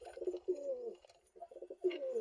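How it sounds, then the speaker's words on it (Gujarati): A pigeon coos close by in soft, throaty, repeated rolling calls, with a short pause between phrases. "આ જો આપણો કબૂતર કેટલો ઘોરે છે"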